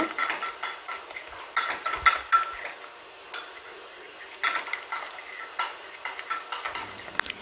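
A spoon stirs plain yogurt into a thickened mixture in a bowl, giving soft, close scraping and clinking strokes in irregular bursts with short quiet pauses between.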